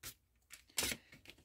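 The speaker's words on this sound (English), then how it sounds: "Hills and valleys, valleys and hills. I never know what way to fold it." A paper file folder being folded back and forth into hills and valleys, giving short crinkly rustles and one louder crackling fold, close and quiet.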